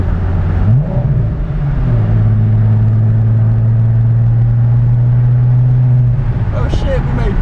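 A turbocharged VR6 engine in a Mk4 car pulls hard under acceleration with a loud, steady rising drone and turbo whine building boost, heard from inside the cabin with people talking over it.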